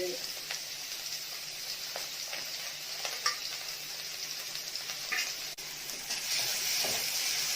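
Ginger garlic paste and onions fry in a pan with a continuous close sizzle, broken by scraping stirs and small clatters, rising slightly louder toward the end.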